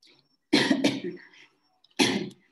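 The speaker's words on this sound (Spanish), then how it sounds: "Perdonen por la tos." Two harsh coughs close up, the first a quick double burst, then a single cough after a short pause, with silence around them.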